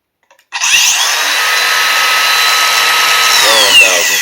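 An angle grinder being compared against Milwaukee, Bosch and Metabo models whirs up suddenly after a few clicks into a loud, steady high-pitched whine that holds and then wavers near the end.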